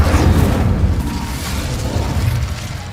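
An Incendio fire spell cast in the video game Hogwarts Legacy gives a loud, close burst of flame that settles into a deep, rumbling roar, sustained across the whole stretch with no voices.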